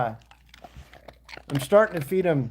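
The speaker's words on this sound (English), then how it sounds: "If you guys hear them crunching now, I'm starting to feed them." Dogs crunching dry kibble at dinnertime: a run of faint, scattered crunches and bites, then a person talking over the eating.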